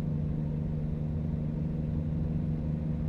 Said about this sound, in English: How's the engine sound, guys? Not too loud.